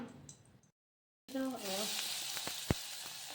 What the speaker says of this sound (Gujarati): તેલ ગરમ થાય એટલે આ આદુ અને લીલા મરચાંની પેસ્ટ નાખી દેવાની.